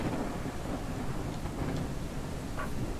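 Thunder rumbles in a Ranch Simulator video game on a cold, rainy stormy night, while steady pouring rain fills the background with an even hiss and a few sharper crackles break through.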